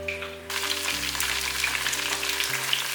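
Fried tofu deep-frying in hot oil, a dense, continuous sizzle and crackle, steady and close, over a low background tone with no talking.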